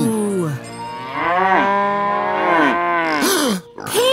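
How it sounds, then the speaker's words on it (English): Cartoon cows moo loudly in long, drawn-out, bending calls that overlap one after another, with a short gap before a final low moo. "There they are! Cows!"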